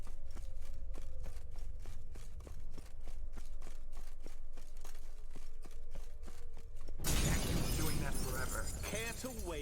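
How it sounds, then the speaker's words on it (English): A mirror shattering in the video game The Witcher 3: Hearts of Stone: a steady run of rhythmic clicking game sounds gives way to a sudden, loud, bright burst of breaking glass near the end. "Gotta be some mirror here you won't shatter."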